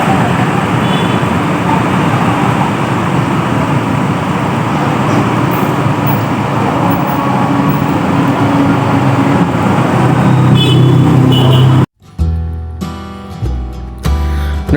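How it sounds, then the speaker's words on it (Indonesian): At the Batu bus terminal in the afternoon, a Trans Jatim bus arrives amid a steady, loud roar of engine and road noise, which then cuts abruptly to quieter, broken sounds. "Ada bus Trans Jatim yang baru datang."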